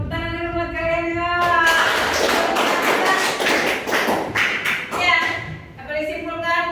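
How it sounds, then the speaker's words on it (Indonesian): Classroom applause for students: a short burst of scattered, uneven hand claps from a small group, lasting a few seconds, with a teacher's voice just before and after. "Tepuk tangan dulu buat kalian ya."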